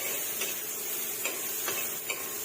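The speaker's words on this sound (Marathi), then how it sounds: "कांदा आपल्याला गुलाबी होईपर्यंत परतून घ्यायचा आहे" Finely chopped onion sautés in oil in a pan with a constant close hiss and sizzle, broken by a few soft scrapes from stirring.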